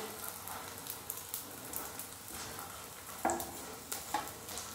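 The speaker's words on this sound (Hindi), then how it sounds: "तो इस तरह से इसे अलटते पलटते हुए भून लेंगे।" Ingredients for brain-boosting laddoos are stirred and roasted in a pan over a medium flame, giving a soft continuous sizzle with repeated scraping and clinking of the spatula, fairly close and steady, with no talking.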